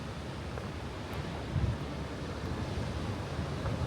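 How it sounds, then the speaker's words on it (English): Ocean waves on the shore at a beach in Rabat, Morocco, heard as a soft, continuous wash of surf mixed with wind buffeting, with no voices. "Oh man, you can see the waves here."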